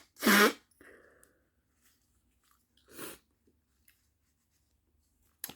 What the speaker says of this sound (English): Need to blow my nose.